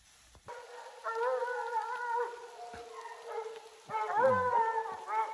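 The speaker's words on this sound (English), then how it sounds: "Dogs have him treed up." Hunting dogs bay at a mountain lion treed in the mountains, drawn-out howling calls at a distance, two long bouts with a short yip between, no talking.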